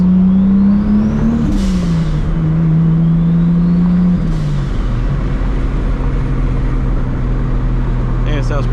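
A Toyota Supra MKIV engine drones steadily while cruising, its pitch rising and dipping as the car shifts and accelerates, with passing road and wind noise, loud and close throughout.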